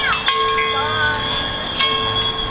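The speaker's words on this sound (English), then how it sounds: "and also the bell tree chimes" Metallic bell tree chimes in a sensory garden ring with sustained, shimmering tones, struck again a couple of times so new clinks layer over the lingering ring.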